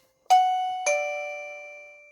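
A wireless doorbell chime sounds a two-tone ding-dong, the second note following about half a second after the first and ringing on for over a second, near and clean with no voices.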